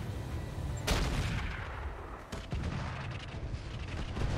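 Artillery shells striking and toppling a building in the RogueTech BattleTech game: two heavy booming blasts about a second and a half apart, each trailing into a rumbling, crackling collapse.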